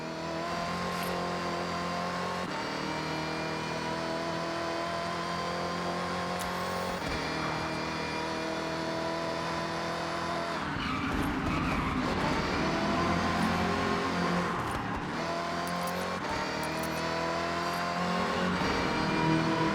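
A Chevy Nova engine in Forza Horizon drones and revs continuously, rising and falling through the gears with a steady harmonic whine, close and loud throughout, with a rougher surge partway through.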